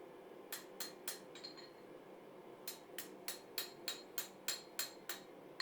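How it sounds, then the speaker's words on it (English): A hammer planishes steel in quick bright strikes, smoothing a beveled scroll for a grill, a short burst followed by a steady run of evenly spaced ringing blows, close and clear. "Planish, planish, planish out those hammer blows and just smooth up that surface"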